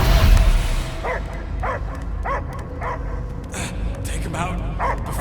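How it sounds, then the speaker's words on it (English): Dog barking heard from a distance in the Guardians of the Galaxy video game: a series of short, evenly spaced barks over a steady low drone, with voices talking throughout. "I hear only barking"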